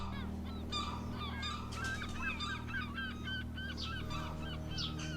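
Gulls call repeatedly over a steady low drone, a run of harsh, honking cries that overlap and tumble one after another at moderate distance, with no speech.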